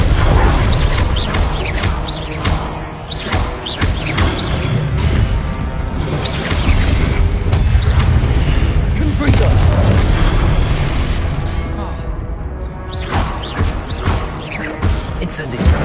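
Confringo and Incendio spell blasts in Hogwarts Legacy boom and crash one after another in a dense, loud wall of impacts and whooshes with little break between them.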